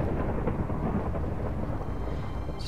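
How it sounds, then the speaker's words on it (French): A thunderstorm rumbles in the video game Terra Restore 2 near an erupting volcano, a dense, steady low roar of thunder and rain that fills the whole stretch without pause and with no voices. "Pourquoi il y a l'orage?"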